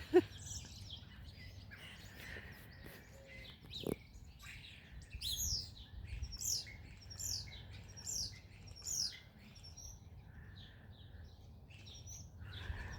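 Several birds sing and chirp in a spring garden in bloom, with bright repeated tweets and trills rising over a low background hum, fairly close and clear, with no talking.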